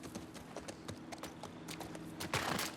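Horse hooves clip-clopping at a gallop in The Last of Us Part 2, a steady rapid rhythm of close thuds under ambient game sound, growing louder near the end.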